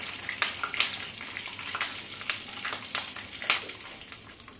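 Asafoetida sizzles in hot ghee for khichdi, a steady close frying hiss broken by sharp crackles and pops at irregular intervals.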